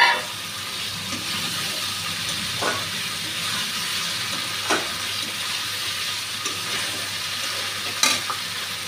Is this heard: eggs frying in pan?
yes